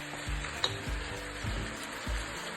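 Onions frying in a pan, a steady sizzle with rhythmic stirring scrapes about every half second, close up and alone.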